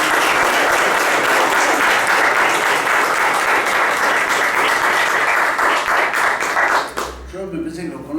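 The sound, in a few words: audience applause welcoming a lecturer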